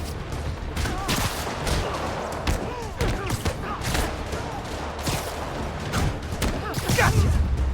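Rockets fire and explode in a Marvel's Spider-Man Remastered boss fight against Kingpin, with a dense run of blasts, whooshes and impacts that stays loud throughout and builds toward the end.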